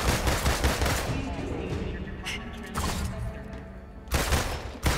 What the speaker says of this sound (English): Let's go ahead and shoot until we reload.